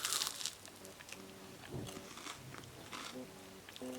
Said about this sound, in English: I'm going to have, so this is like a Rice Krispie bar, like a marshmallow white chocolate